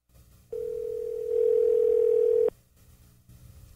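A steady telephone tone sounds for about two seconds while a call is placed, growing louder partway and cutting off sharply, with faint background noise around it.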